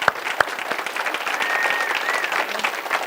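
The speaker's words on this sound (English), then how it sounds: "So give them a round of applause." An audience at an energy company training event gives award winners a dense round of applause, steady and full from the start with a few louder claps up front, close and loud throughout.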